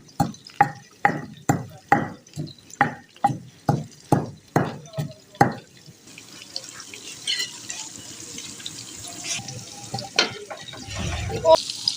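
Knocks and scrapes of stirring in a pot give way to a steady hissing sizzle as a tadka tempering hits the salan curry; the sizzle stays moderately loud and continuous to the end.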